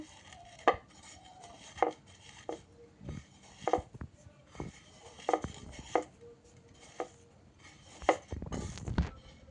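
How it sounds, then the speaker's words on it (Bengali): Chili, onion and shrimp being hand-mixed and mashed for a Bengali prawn bhorta, heard as close, irregular soft thuds and squelching knocks against a bowl or plate, with a few sharper clicks. "এই যে এটা এখন মরিচ পেঁয়াজ সব একসাথে মেখে নেওয়া হচ্ছে"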